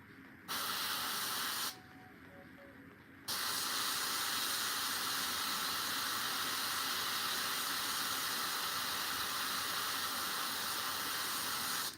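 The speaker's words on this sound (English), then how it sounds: "That's exactly why I pulled the airbrush," An airbrush sprays paint onto a Warhammer miniature, producing a close, steady hiss that runs through the clip and stops once for a moment near the start.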